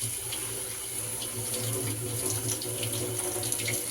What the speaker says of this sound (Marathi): तर मी पोहे आधी धुवून घेते